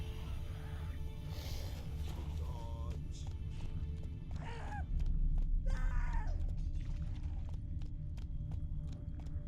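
Geralt's horse Roach in The Witcher 3 comes to a halt, close hoof clip-clops slowing alongside snorts and a whinny, with voices speaking over the scene.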